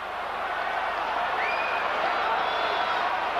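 A huge stadium crowd at the Hong Kong Sevens rugby final roars in a steady, dense wall of cheering, with a commentator talking over it and faint whistles rising above.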